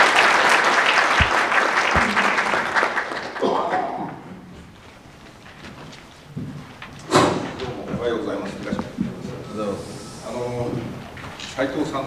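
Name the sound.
audience applause welcoming a speaker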